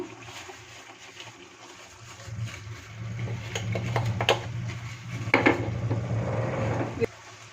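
Utensils clink and scrape in a pot of boiling water as roasted vermicelli is stirred in, with a steady low bubbling hum underneath and a few sharper knocks near the end.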